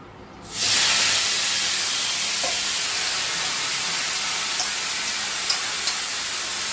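Two dried red chilies drop into hot oil in a pan and set off a sudden loud, steady sizzling hiss that carries on evenly, broken by a few faint pops and clicks.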